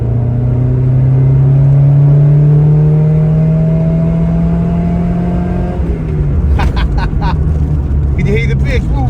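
A 30-year-old Vauxhall Nova's engine pulls hard in third gear, a loud close droning note climbing steadily in pitch before easing off, followed by some clicks and rattles from the cabin.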